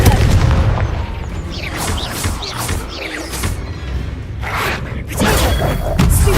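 Confringo blasting spell in Hogwarts Legacy, several booming magical blasts with whooshing sweeps between them, loud and close, with a voice speaking over parts.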